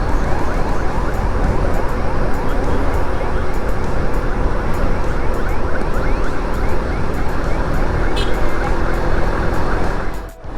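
An ambulance siren wails continuously on a Bangladeshi road while stuck behind a truck. It is loud and close, layered over heavy engine and traffic rumble that fades near the end.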